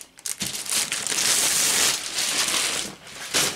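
Close, continuous crinkling and rustling of a plastic bag being handled and pulled open, with brief pauses in the crackle.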